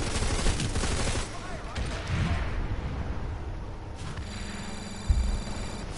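Bursts of weapon fire in the online shooter PlanetSide 2, rapid volleys in the first seconds and a sharp shot near the end, over game background noise.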